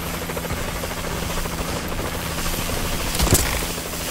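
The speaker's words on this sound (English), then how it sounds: "Warbird decloak sequence activated." In Call of Duty: Advanced Warfare, a Warbird aircraft decloaks, a loud sustained rotor-like whirring drone with a sharp burst near the end.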